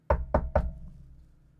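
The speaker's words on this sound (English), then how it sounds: "If I want to knock on something, I'll knock on like a door." Three firm knuckle knocks on a desk in quick, even succession, close and resonant, each ringing briefly before fading into quiet.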